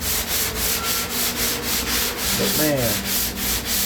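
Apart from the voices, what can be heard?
sanding wood with sandpaper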